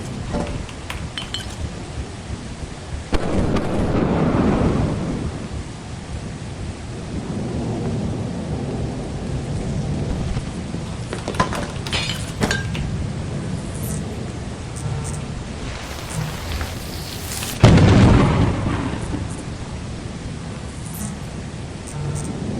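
A thunder and lightning storm in the game Lethal Company, with rain hissing steadily and loud thunder rumbles that swell near the start and crack sharply about two-thirds of the way through.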